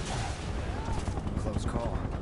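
Muffled gunfire and booming impacts in the Final Fantasy VII Remake video game, a continuous rumbling barrage with faint voices mixed underneath.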